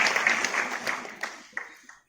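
An audience of rural women claps at a Sangathan Se Samriddhi Abhiyaan gathering, the applause fading from a burst into a few scattered claps before dying out.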